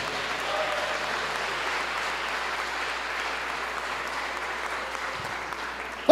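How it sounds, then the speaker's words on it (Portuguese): A church congregation claps together during an evening service, with moderate, continuous, even applause from a crowd filling the room, ending with a sudden loud sound at the close. "Você pode aplaudir Jesus essa noite"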